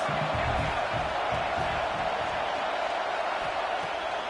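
College football stadium crowd roaring steadily against the offense, a thick continuous wall of cheering and yelling with some voices rising above it, loud and unbroken.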